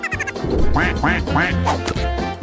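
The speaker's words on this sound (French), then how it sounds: "Elle pourra regarder les jolis canards nager le soir." A run of rapid, loud quacks from ducks at a pond, several calls in quick succession with overlapping honks, close by and without talk.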